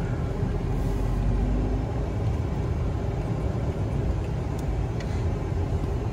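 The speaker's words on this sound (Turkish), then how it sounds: "Bakın buradan gelecek minibüs." Minibus rumbling at a stop near a university campus in Bilecik, Turkey, a continuous loud low engine drone with traffic noise throughout, no voices.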